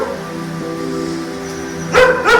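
A dog barks twice in quick succession near the end, loud and close, after a stretch of low background hum.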